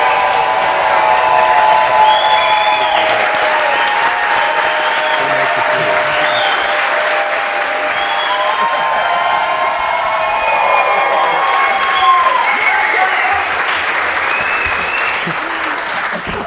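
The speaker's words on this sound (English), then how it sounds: "Let's hear it for Travis and Mel" A live studio audience at an Xscapers BASH 2020 RV television show taping breaks into sustained applause, with cheers and a few whoops rising over the clapping, loud and close, lasting throughout.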